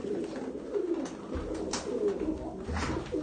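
Pigeons coo in low, rolling murmurs, several calls overlapping close by against faint outdoor noise.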